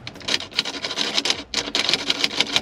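A wireless phone mount rattling inside a moving Porsche Macan, a close, dry clicking chatter in quick irregular bursts with a brief pause partway through.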